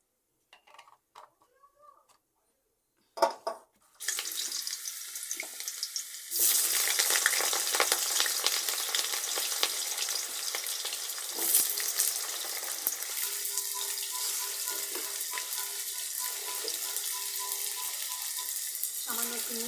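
Vigorous sizzling of mustard oil in a hot kadai while frying for a Bengali loitta shutki dry fish curry, starting after a few soft clinks and building into a steady, loud crackle with occasional stirring.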